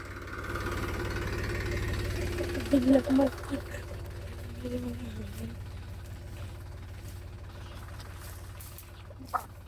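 A low, steady tractor engine idles throughout with a rumbling drone at a sweet lime orchard during spraying, while voices speak briefly over it and a few short clanks occur.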